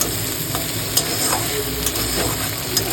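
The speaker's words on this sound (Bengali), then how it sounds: "এবার আমি এই আদা রসুন বাটাটা দিয়ে দেবো।" Ginger garlic paste added to beaten eggs in a pan for Parsi akuri gives a continuous bright sizzle with occasional scrapes and stirring taps, loud and close throughout.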